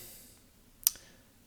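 A single sharp computer mouse click, close and brief, against a quiet background.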